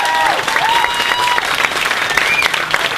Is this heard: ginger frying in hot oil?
no